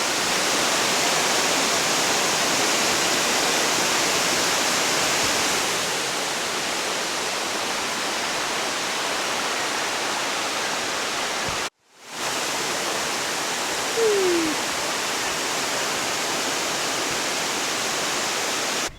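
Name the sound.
waterfall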